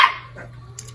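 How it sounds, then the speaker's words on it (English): A dog lets out one sharp, close bark at the start, followed by quieter background noise in a home setting. "Sorry, they're barking."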